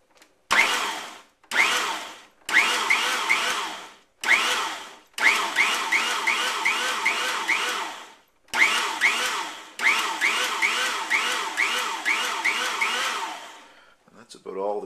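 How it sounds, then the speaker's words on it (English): A food processor whirs while chopping hot peppers, running in about seven loud pulsed bursts of whining motor and blade clatter separated by short pauses. "I will now give them a little whir in the food processor"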